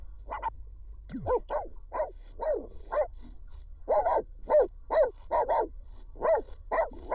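Dog barking in a video game, a series of sharp, mid-pitched barks and yips in an irregular rhythm, close and fairly loud, with a brief whimpering note early on.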